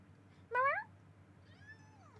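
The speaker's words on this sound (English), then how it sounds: "That's my cat." A house cat lets out one loud, close meow, then a softer, longer mew follows, both set against a quiet room with a faint low hum.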